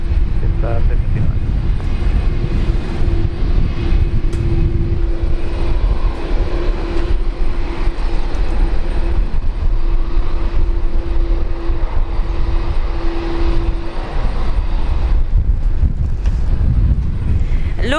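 A Qantas airliner departing Brisbane Airport gives a loud, steady jet-engine roar with a sustained droning tone, while wind buffets the microphone throughout.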